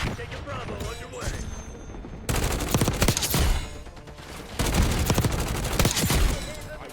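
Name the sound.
gunfire in video game Call of Duty Black Ops 6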